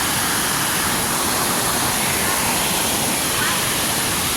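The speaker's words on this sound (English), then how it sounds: "Look at this beautiful waterfall." A multi-tiered waterfall in Jamaica roars as a loud, constant broadband rush of falling water, close and unbroken throughout, with no other sounds standing out.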